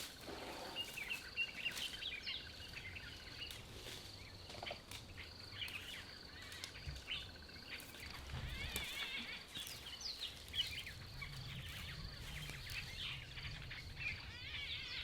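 Birds calling around a fruiting fig tree in African bush, where green pigeons feed and orioles gather: scattered chirps and calls with occasional wing flaps over a steady insect hum, fairly faint and distant.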